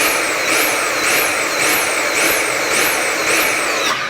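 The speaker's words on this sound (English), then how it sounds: "If your Dyson vacuum cleaner is doing this type of sound, then it is time for you to actually clean this Dyson up." A Dyson V7 cordless vacuum cleaner with poor suction runs loudly and close, its motor whine pulsing in a regular cycle of about two surges per second, alone without talk.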